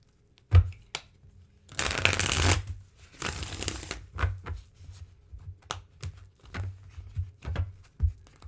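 A tarot card deck is shuffled in several riffling bursts close to the mic, with scattered taps and card flicks between them and no talking.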